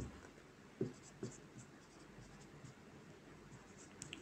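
Pen or marker writing out a physics calculation for a ball's maximum height, a faint scratchy stroke sound with a few sharper taps, quiet and close, with no talk over it.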